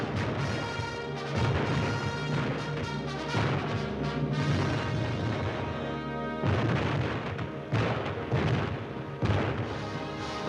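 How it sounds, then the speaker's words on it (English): Dynamite blasts in simulated battle skirmishes during wartime dog training, a continuous loud rumbling barrage of booms and bursts with several heavy surges. "Exploding dynamite in sham skirmishes keyed us to battle conditions."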